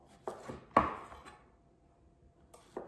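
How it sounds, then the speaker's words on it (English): A knife chops a vegetable on a board before spiralizing, a handful of sharp, close thunks spaced irregularly with quiet gaps between them, no talking. "first you want to go ahead and chop your vegetable."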